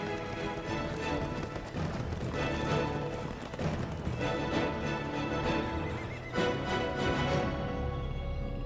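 Horses neigh loudly several times over a dense layer of thudding hooves, as if many animals are moving together nearby.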